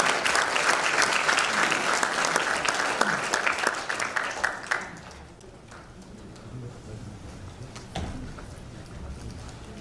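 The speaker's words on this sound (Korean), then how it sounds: "뜨거운 박수 한번 주세요." An audience at a church association inauguration and New Year gathering claps loudly for about five seconds, then the applause fades into quieter room noise with scattered claps.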